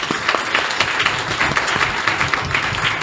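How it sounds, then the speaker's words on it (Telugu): A church congregation bursts into loud, sustained applause at a New Year service, dense rapid clapping from many hands filling the room, close and continuous for a few seconds without speech. "గట్టిగా చప్పట్లు కొడదాం."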